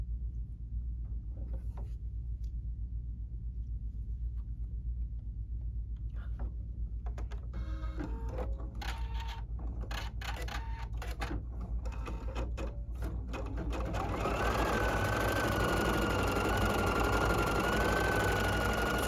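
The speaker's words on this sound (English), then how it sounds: "I'm going to go ahead and stitch that" A Viking Ruby 90 embroidery machine stitches an applique outline for a patch, a fast rhythmic mechanical clatter that starts softly and builds into a louder steady whirring hum, close by.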